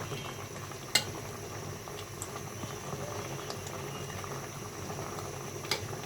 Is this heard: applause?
no